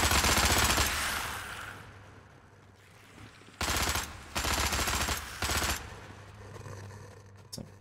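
Gunfire in the video game Dead Frontier 2 during a Halloween event mission, heard as bursts of rapid automatic shots. A loud opening volley fades into a quieter stretch, then several sharp bursts return in quick succession.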